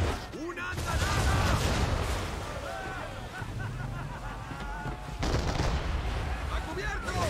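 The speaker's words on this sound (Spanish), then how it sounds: "¡Una andanada!" Heavy ship cannon broadside fire in Assassin's Creed III booms in repeated rolling blasts amid battle noise, with excited voices shouting in the background.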